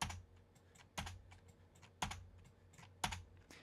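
A computer keyboard is used while working in Adobe Audition, with four evenly spaced, crisp key taps about a second apart, close and clear against a quiet room.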